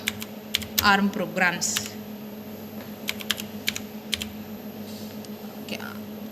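Fingers tap a computer keyboard to name a new folder in a lab setting, a quick run of clicky keystrokes followed by sparser taps, while a person speaks softly over the typing.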